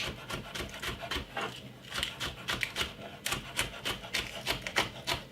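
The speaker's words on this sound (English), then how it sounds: "we're gonna put some spring onion, and I'm gonna cut it up very finely" Knife chopping spring onion finely on a wooden board, a fast run of crisp, repeated cuts close by with a steady, slightly uneven rhythm.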